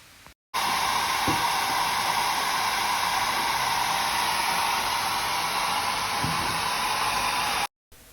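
A hair dryer blows on a refrigerator door gasket with a steady, loud whooshing roar for several seconds, switching on after a brief pause and cutting off near the end.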